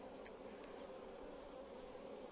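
Honey bees fill a hive super with a steady, dense buzz that stays close and even throughout, with no voices over it.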